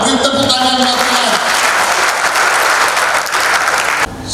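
A gathered congregation at an Indonesian address claps loudly and continuously, a close, dense wash of applause that cuts off abruptly near the end.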